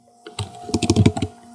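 Someone types an Excel formula on a computer keyboard: a quick burst of about a dozen sharp, close key clicks in rapid succession, preceded by a couple of softer taps, then silence.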